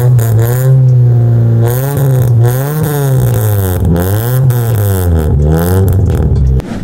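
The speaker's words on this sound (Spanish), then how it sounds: "El auto suena súper bien." A 1992 Honda Accord Coupe CB7 engine runs up close and loud, revving repeatedly in rising and falling waves over a steady idle rumble for several seconds.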